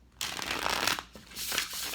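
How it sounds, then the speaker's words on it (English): Tarot cards are shuffled in quick, papery riffling bursts, close and fairly loud, with a brief pause between shuffles. "I'm just going to shuffle the cards a little bit"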